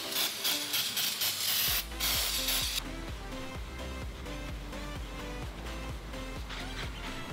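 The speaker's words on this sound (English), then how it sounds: "So brake clean works great." Brake cleaner sprayed onto the surface of an aftermarket flywheel for an LS engine, a loud close aerosol hiss in one burst lasting under three seconds, followed by quieter rattling and handling noise.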